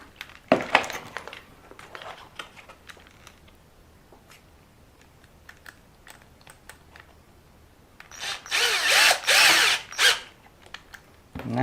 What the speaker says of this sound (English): I am again going to use my electric screwdriver because it goes a little bit quicker